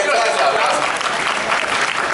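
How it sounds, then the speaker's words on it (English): An audience claps loudly and steadily throughout at the special effects show at Universal Studios in Los Angeles, a dense, continuous burst of applause from a large crowd. "Give them a round of applause."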